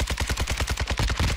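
Rapid automatic gunfire in the video game Warzone 2, a fast steady stream of close, loud shots with no talking.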